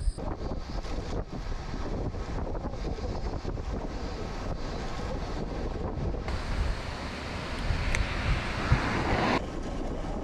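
Strong, steady wind roars across the microphone while cycling toward Matsumoto ahead of a typhoon in Japan, a loud continuous buffeting rush that never lets up, with no talking.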